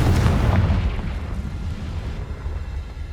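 Explosive blasting spell detonating in the Hogwarts Legacy video game, a loud booming burst up front followed by a long, rumbling tail that slowly fades across a few seconds.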